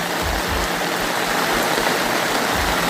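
Steady rain falls in a garden, a dense, even wash of noise that stays loud and constant throughout with no voices.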